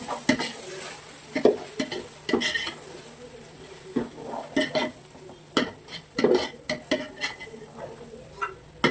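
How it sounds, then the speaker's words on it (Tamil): Repeated scraping and clinking of a utensil stirring chopped tomatoes in a pan for biryani, with a soft sizzle of frying underneath, close and irregular. "இது மட்டும் நல்லா கிண்டிக்கலாம்."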